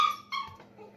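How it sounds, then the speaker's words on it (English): A puppy whimpers in high, thin whines, two short cries close by followed by a fainter trailing whimper. "You hear this puppy?"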